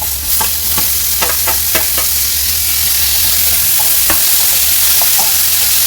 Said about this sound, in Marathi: आता आपला कांदा शिजत आला आहे, तर त्यात आपण टोमॅटोही टाकून घेऊ।